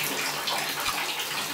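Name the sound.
cold shower water running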